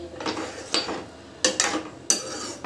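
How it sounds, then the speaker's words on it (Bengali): Dahi bhindi curry being stirred in a pot with a utensil, giving several sharp metallic clinks and scrapes against the pot, likely followed by a lid being set on. "এবার আমি স্বাদ মতন জল দিয়ে, 1 বাটি জল দিয়ে আমি এটাকে নেড়ে চেড়ে ঢাকা দিয়ে দেব।"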